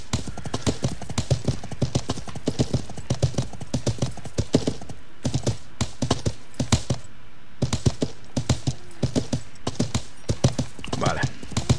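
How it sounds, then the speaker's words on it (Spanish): A deer in the medieval game Life is Feudal walks with a steady, rapid run of crisp hoofsteps on hard ground, close and even, pausing briefly midway. "Es un ciervo, qué susto, pensé que era un caballo."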